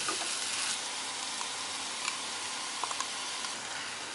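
Capsicum with a sauce mix sizzling in a frying pan, a steady bright hiss of frying with a few small pops and stirring scrapes, moderately quiet and with no voices.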